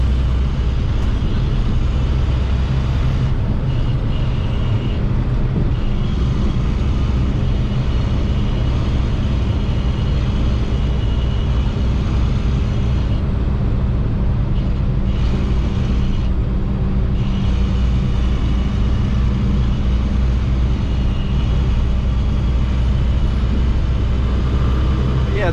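International 4400 truck with a DT570 engine cruising along a rough highway, a steady loud engine drone and road rumble filling the cab continuously without a break.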